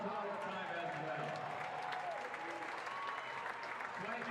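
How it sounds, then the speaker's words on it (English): Audience at the Shoulder Check Showcase 2024 charity event applauding, a dense, steady wash of clapping held throughout, with voices faintly mixed in beneath it. "Give them a round of applause one more time as well."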